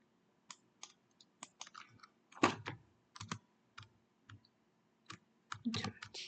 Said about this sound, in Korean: 컨트롤 누르고